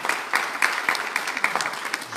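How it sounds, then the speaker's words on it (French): An audience at a talk by Yves Aubin de La Messuzière applauding, sustained close clapping from a moderate crowd with uneven rhythmic peaks throughout. "je voudrais qu'on applaudisse également Florence, qui est là, son épouse"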